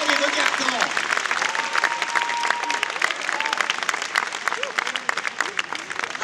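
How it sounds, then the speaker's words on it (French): Studio audience at a TV talent show semi-final applauding loudly and continuously, dense clapping with some cheers and a voice speaking over it. "Est-ce que vous pourriez applaudir le chef sur ce plateau, Monsieur Diego Dominguez?"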